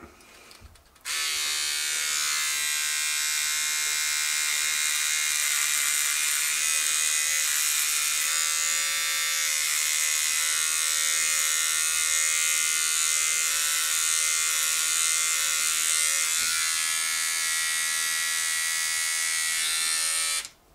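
A Philips OneBlade-style Durablade electric beard trimmer buzzes steadily and loudly for about twenty seconds while shaving a strip of beard, a continuous high whir that switches on and off abruptly.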